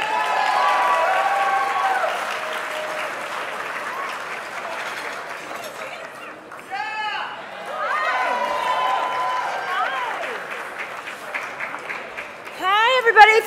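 Banquet audience at an awards grants dinner applauding and cheering as a comedian and talk show host takes the stage, a strong burst that fades behind her voice as she speaks, then swells again with whoops near the end.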